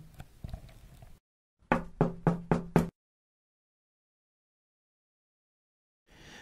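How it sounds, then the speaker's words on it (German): Five sharp, evenly spaced knocks on a door ring out in quick succession, loud and close, after a brief bit of background sound, followed by silence. "In diesem Moment klopft es auch schon an der Tür und Tobias kommt hinein."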